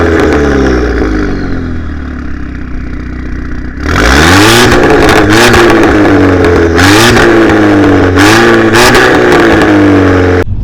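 A tuned VW Golf engine starts quietly, then surges into loud, hard revving with rising and falling pitch sweeps, close and dominant for several seconds.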